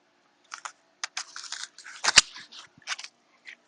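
Garden shears snip crinum lily bulbs and leaves out of grass in a run of short, sharp close-up cuts, irregularly spaced, with rustling between them.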